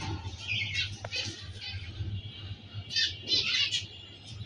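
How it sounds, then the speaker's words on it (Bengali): A pair of lutino cockatiels in a cage give short, bright chirps and calls in scattered bursts. A low background hum runs steadily underneath. "তো এখানে আমার একটি লুটিনো ককটেলের পেয়ার দেখতে পাচ্ছেন।"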